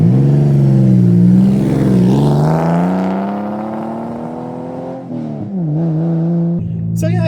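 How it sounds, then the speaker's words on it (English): A loud aftermarket exhaust on a modified Porsche 911 drones and revs from up close, rising in pitch across several seconds, easing off, then picking up again. A sharp crackle comes at the end. "That is a loud exhaust."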